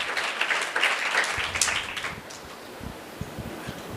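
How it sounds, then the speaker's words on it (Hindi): A church congregation claps along during a pastor's sermon, a steady wash of many hands applauding near and loud that thins after a couple of seconds into scattered, separate claps. "बजाइए बजाइए बजाइए बजाइए, ताली बजाइए"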